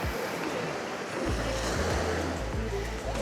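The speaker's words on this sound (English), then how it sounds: "We've got waves crashing." Ocean waves wash ashore under wind, a continuous surf rush with low rumbling buffets, heard from nearby outdoors with no talking.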